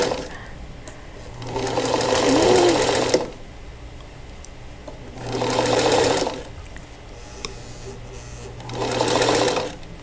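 A sewing machine stitching quilt pieces cut with a split melon template runs in three short bursts with quiet pauses between them, close and clear with no talk.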